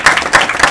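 Brief loud burst of crowd clapping at a felicitation ceremony for the Kho Kho World Cup winning men's and women's teams, steady and close, lasting under a second.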